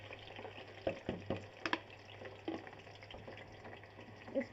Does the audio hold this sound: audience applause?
no